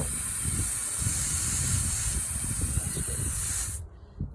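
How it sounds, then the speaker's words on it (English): Pressurized line on a rail tank car bled through a slightly opened valve, a steady loud hiss with spluttering low bursts of escaping liquid, running for several seconds and then cut off abruptly. "Bleed the line a little bit by opening that valve just a little bit."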